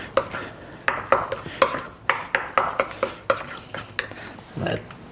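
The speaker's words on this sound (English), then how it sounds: "Let's mix it perfectly." Turmeric being stirred into a bowl of hummus, a steady run of a dozen or so soft scraping and tapping strokes at an even rhythm, close and fairly quiet with no voices.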